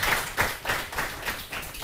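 A studio audience on the French quiz show Questions pour un champion claps for a contestant, several short swells of rhythmic applause, moderately close, with no talk.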